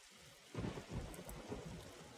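Video game thunderstorm in Nightmare Frames: a low roll of thunder rumbles in after a brief lull, under steady rain hissing and pattering on surfaces, fairly quiet overall.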